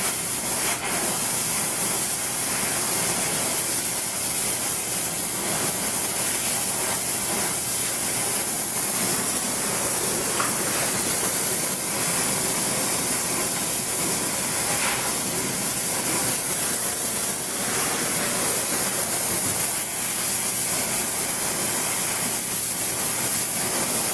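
A welding torch fusing a joint on a Genesee crystal piece gives a steady, loud roaring hiss that runs unbroken from start to finish, with no voices.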